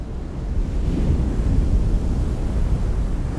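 Big ocean surf pounds continuously under a strong north wind, with a broad, steady roar of breaking waves and wind buffeting the microphone, and no voices.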